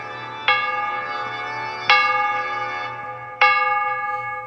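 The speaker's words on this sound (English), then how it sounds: "The bells keep playing." Church bells in a video game strike three times at roughly one-and-a-half-second intervals, each loud ring decaying into a long humming tail over a faint low drone.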